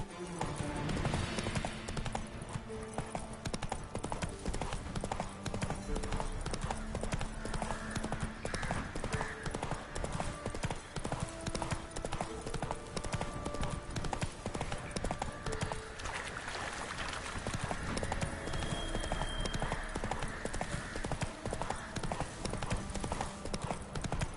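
Roach, Geralt's horse in The Witcher 3, trots with steady, continuous clip-clopping hooves throughout, a busy rhythmic patter over in-game music and ambience.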